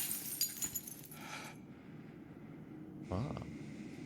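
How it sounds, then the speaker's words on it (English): Glass shatters in the Silent Hill survival horror game: a bright crash with tinkling shards over the first second and a half, then quiet ambience and a low, dull thud near the end. "Break through the glass."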